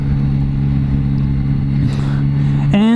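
A Yamaha Tracer 9 GT motorcycle's three-cylinder CP3 engine idles with a steady low drone, then near the end the revs climb sharply in a rising whine; the rider's engine noise is close and loud.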